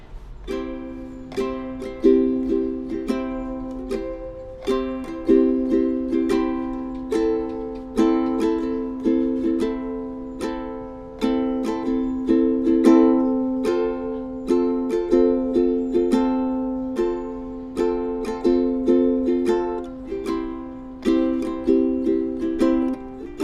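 A ukulele strums chords in a steady, repeating rhythm, each stroke crisp and close, continuing alone without any talking.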